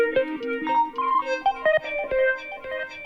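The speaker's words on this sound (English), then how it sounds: "Maybe a little bit of distortion can be good." Synth pad patch built in a Kilohearts plugin with a touch of distortion, a gritty tonal texture moving through short stepped notes and chords, close and steady with no voices.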